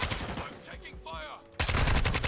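Gunfire in the video game Modern Warfare 2 sounds as dense, loud bursts of shots over game audio, with a voice talking partway through.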